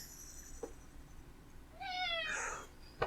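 A faint meow, then a louder drawn-out cat meow in a quiet room, followed by a brief click.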